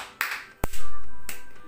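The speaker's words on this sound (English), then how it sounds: "Yes, this one is Kavali clap." Students perform a Kavali clap during a clapping warm-up: three sharp, close claps, unevenly spaced. The middle one is the loudest and leaves a lingering ringing tail.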